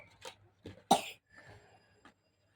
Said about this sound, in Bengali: এক দুদিনেই ওর কাশি ধরে নিয়েছে আবার